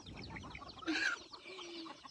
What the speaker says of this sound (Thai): ไก่ ทุกคน